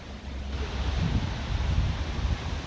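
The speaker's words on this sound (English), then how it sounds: "But let's have a look at this very fast flowing river." A fast-flowing river swollen by rain during Storm Amy, rushing as a steady broadband roar close to the microphone with wind buffeting, no talking.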